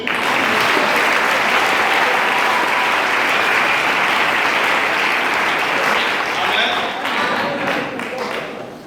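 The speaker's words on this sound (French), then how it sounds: "Acclamons Jésus." A church congregation breaks into loud, sustained applause during a French-language sermon, a dense steady clapping that fills the room and slowly fades toward the end.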